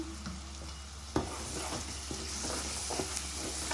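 Ginger paste fries in a hot pan with a steady close sizzle, broken by a few spoon scrapes and taps as it is stirred, under a constant low hum.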